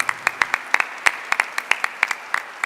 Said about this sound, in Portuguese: Vamos aplaudir o Santo Evangelho proclamado.